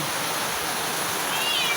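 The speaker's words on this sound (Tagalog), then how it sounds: "ang lakas ng hangin" Strong wind roars outside a house during heavy rain, a steady broadband rush of air and falling water with a faint thin whistle near the end.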